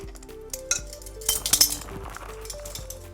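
Spoon stirring hot cross bun dough studded with fruit in a bowl, a run of bright clinks and scrapes against the bowl's sides, with a cluster of louder knocks midway.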